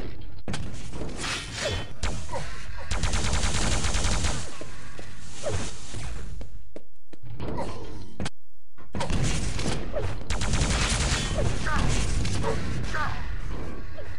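Rockets fired from a rocket launcher in a capture-the-flag arena shooter match, heard as a dense run of whooshes and thudding blasts with dry gaps between bursts; a commentator's voice runs over much of the action.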